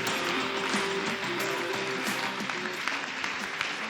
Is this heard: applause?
yes